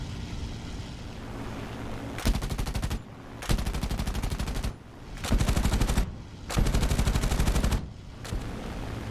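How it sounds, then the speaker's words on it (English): Machine-gun fire from a P-51 Mustang comes in four loud, rapid bursts of about a second each, set against a constant engine drone. "He still approached and fired a short burst."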